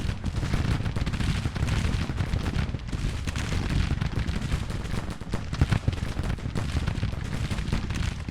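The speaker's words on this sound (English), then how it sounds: "Huwald has been ordered to dismount and now firing on Federal troops from the rear" Dense, sustained musket fire from dismounted cavalry in the Civil War strategy game Grand Tactician, an unbroken rolling crackle of overlapping shots with deep rumbling booms underneath, steady and fairly loud throughout.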